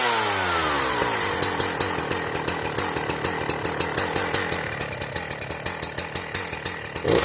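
A Sachs Dolmar 110 chainsaw with a muffler mod fires on one pull and runs loud and close, its engine pulsing in a rapid steady rhythm and revving briefly near the end.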